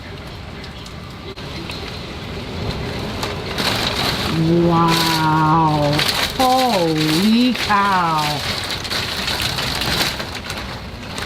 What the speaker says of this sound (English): Got a little torrential rain.